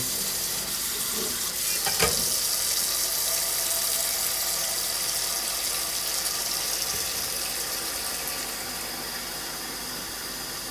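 Water runs steadily from a kitchen tap into a pan to fill it for soaking, a constant close hiss and splash with a brief sharper knock early on and no talking.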